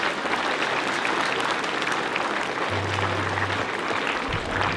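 Loud, sustained applause from a school audience at a Labour Day celebration at a college in Nainital, welcoming a singer to the stage. The dense clapping runs steadily throughout with no talk over it.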